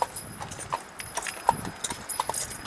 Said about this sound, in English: One horse.